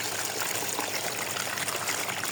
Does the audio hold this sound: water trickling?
yes